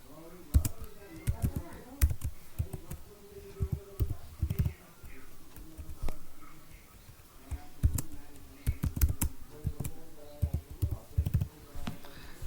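A password is typed on a computer keyboard in quick, irregular bursts of soft key clicks, close and fairly quiet, with short pauses between runs of keystrokes.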